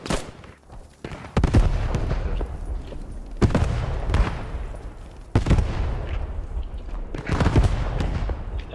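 Enemy artillery fire in a World War 2 shooter game: a series of heavy booming blasts about every two seconds, loud and close, each with a long rumbling decay over steady battlefield noise.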